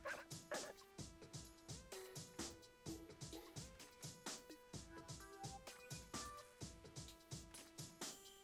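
A corgi in the video game Cosmic DJ yips and barks in quick rhythmic bursts over bouncy electronic music, the short barks repeating steadily throughout.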